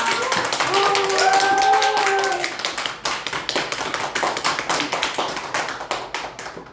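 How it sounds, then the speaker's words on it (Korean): An audience applauds to welcome a health lecturer onto a stage, opening with a loud, full burst of clapping under brief voices, then settling into rhythmic, evenly spaced unison claps that keep a steady beat. "김건희 강사님을 여러분의 힘찬 박수로 모시겠습니다."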